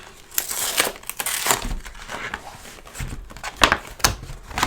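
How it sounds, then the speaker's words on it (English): Cardboard and paper packaging holding 100 gram silver bars being torn open by hand, a series of close crinkling, crushing and ripping bursts in irregular rhythm, with no talk. "Tear this open."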